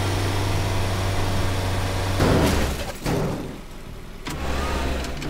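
A small car in Teardown drives and revs its engine at mid pitch, then smashes through an obstacle with a crash and rumbling debris before the motor hums on again; no voices.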